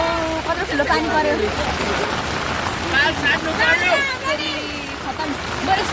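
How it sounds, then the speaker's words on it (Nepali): Heavy rain pours down in Sauraha, Nepal, a dense steady hiss running beneath several people talking over it. "कत्रो ठुलो पानी पर्यो"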